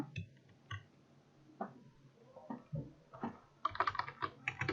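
A computer keyboard clacks close by as someone types chat messages in the Roblox game Adopt Me, scattered single keystrokes at first, then a faster burst of clicks near the end in a quiet room.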